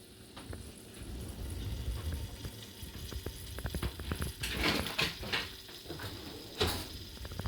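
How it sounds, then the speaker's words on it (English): Potato, bacon and leek soup ingredients sizzle and crackle in a pan, with a steady frying hiss and occasional sharper pops and clinks. "So you can hear it sizzling."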